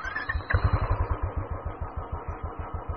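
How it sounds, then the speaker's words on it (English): A warmed-up Royal Enfield Classic 350 single-cylinder motorcycle idles close by, its engine thumping out a steady, even beat of distinct low pulses, loud and alone with no voices. "the engine is warmed up now and you can clearly hear the beats on this bike"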